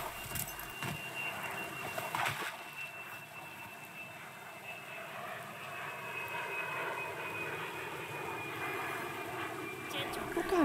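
A burning airplane in the video game Bright Memory Infinite roars past overhead as a broad, steady rushing engine drone with sharp crackling bursts at the start and end. A voice talks over it.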